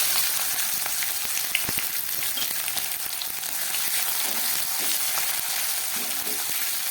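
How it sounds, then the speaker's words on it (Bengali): Chopped onions sizzle steadily in hot oil with bay leaf, cardamom and cloves for aloo dum, a dense, even frying hiss with faint crackles and occasional stirring knocks, close and continuous throughout. "পেঁয়াজটাকে আমি খুব ভালো করে ভেজে নিচ্ছি"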